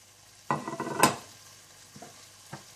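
Mutton liver masala is stirred in a hot pan, with a sharp burst of spoon scraping and clatter followed by a quieter sizzle and a few light knocks, close and with no talking.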